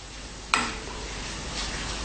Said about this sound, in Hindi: पकने लगा है, उबलने लगा है